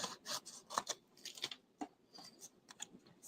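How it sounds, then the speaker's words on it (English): Scissors trimming a paper-crafted card, heard as a series of faint, close snips and crisp paper rustles in an irregular rhythm, with no talking. "So I'm going to trim it from this side just with my scissors."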